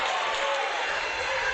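A high school basketball crowd in a gym roars and cheers after a made basket, a broad, sustained wash of noise from the stands that holds steady and loud.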